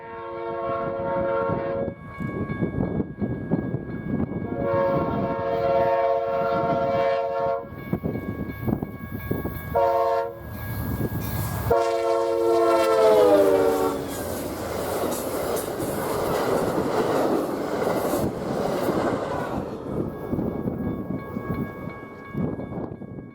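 An Amtrak passenger train rumbles past with several loud horn blasts, then squealing wheels and a long clattering roar as the cars go by.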